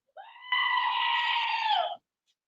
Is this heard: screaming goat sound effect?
yes